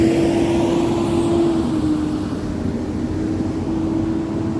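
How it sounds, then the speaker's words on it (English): A large recycling truck rumbles along a neighborhood street on its pickup of green bins, a loud steady engine drone with a sustained tonal hum that eases slightly as it moves. "this looks like the recycling truck coming into the neighborhood, because he's picking up the green bins"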